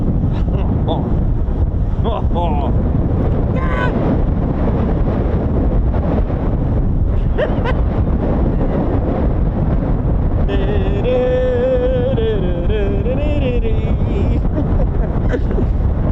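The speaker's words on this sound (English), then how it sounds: "It's windy." Strong wind buffets the microphone in a continuous roar at RAF Lakenheath airbase, with scattered voices and a faint tone drifting in partway through.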